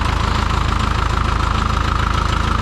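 A Farmall MD tractor engine runs steadily just after startup, a loud, even idle with a rapid regular knocking pulse and no voices.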